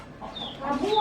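A chicken clucks in short rising calls close by, growing a little louder over the moment, with soft background noise around it.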